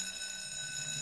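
An electronic fire alarm in a Fireman Sam cartoon rings steadily and evenly throughout, with no voices over it.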